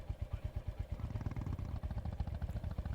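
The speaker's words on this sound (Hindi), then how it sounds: "हम अपनी बाइक पे हमारे घर चलेंगे।" A motorbike engine in the video game Indian Theft Auto chugs with a rapid, even pulsing beat, close and moderately loud, steady throughout with no talk over it.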